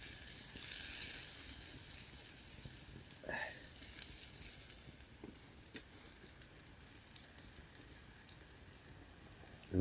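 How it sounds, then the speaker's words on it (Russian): Garlic sizzles in hot oil with a continuous close crackle, broken by a few soft clinks and pops from the pan. "О, как хорошо жарится."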